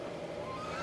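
Ducks at Athirappilly Falls in Kerala give faint, brief honking calls over a steady background wash.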